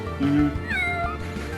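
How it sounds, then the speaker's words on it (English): A Pokémon meows in the Pokemon Uranium video game, one short, clear cat-like cry with a rising then falling pitch, heard alone over faint background game sound. "Oh, it meows."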